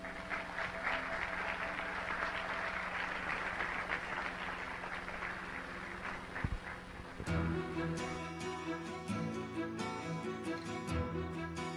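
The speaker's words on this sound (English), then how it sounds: "Let us give all the participants of tonight's program" Audience applause after a musical performance at Sri Sathya Sai Baba's 90th birthday celebration, a sustained wash of clapping that gives way midway to music with a melodic, rhythmic accompaniment.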